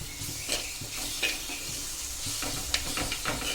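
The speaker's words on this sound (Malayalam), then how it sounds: "ഇനി ഇതിലേക്ക് നമുക്ക് ഒരു തക്കാളി അരിഞ്ഞത് ചേർത്ത് കൊടുക്കാം." Chopped tomato sautéed and stirred into browned onions in a pan for a Kerala coconut-milk fish dish, giving a steady close sizzle broken by repeated scraping and stirring clatter across the whole stretch, with no talking.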